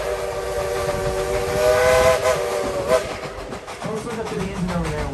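A Dollywood theme park train in the Smoky Mountains of Tennessee sounds a loud, sustained steam whistle while its cars rumble and clack along the track close by.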